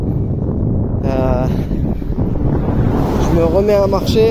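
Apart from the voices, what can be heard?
strong north wind blowing while cycling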